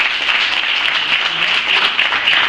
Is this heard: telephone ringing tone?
no